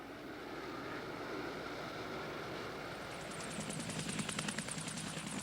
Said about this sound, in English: A helicopter from the cruiser Leningrad teases the American admiral